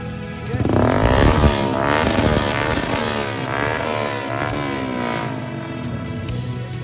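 A motorcycle with a modified silencer revs hard and loud nearby, then settles into a steady roaring drone during a Holi celebration in Punjab.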